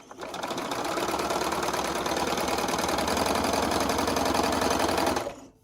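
A sewing machine stitches quilt pieces in one continuous run, its rapid mechanical whir starting up, holding steady and loud near at hand for several seconds, then stopping abruptly.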